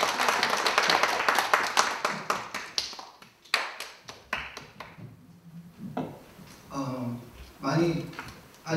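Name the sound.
audience applause welcoming the new alumni president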